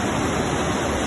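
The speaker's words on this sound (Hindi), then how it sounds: "आप देख सकते हैं पानी बहुत तेजी के साथ बेसमेंट की तरफ भरता हुआ।" Floodwater rushes into a basement at a Delhi coaching centre, a dense, continuous roar like a waterfall. It stays steady and loud for the whole moment, with no voices.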